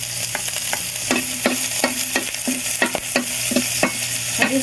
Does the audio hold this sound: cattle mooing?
no